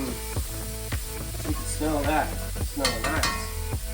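Food sizzles in a cast iron pan at a campsite, with a few scrapes of stirring and a spatula tapping the pan, while a person talks briefly over the frying.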